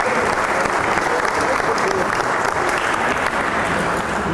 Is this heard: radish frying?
no